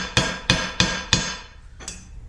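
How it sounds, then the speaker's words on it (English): A copper pipe struck with the cross peen of a body hammer: four sharp, ringing metallic blows in quick, even succession, then a brief pause and one lighter tap, close and clear. "Personally, I prefer the cross peen of the body hammer."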